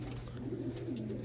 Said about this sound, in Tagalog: Wala pa yung mga ibon natin. Pero meron tayong si Mr. Breakaway talaga